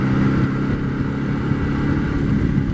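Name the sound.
Izh Jupiter motorcycle engine running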